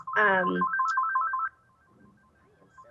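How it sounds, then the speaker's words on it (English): Mobile phone ringtone going off during a talk-show interview: a quick stepping electronic melody of bright tones plays for about a second and then cuts off, overlapping a voice at the start, with quiet room sound afterward. "sorry, that is my phone."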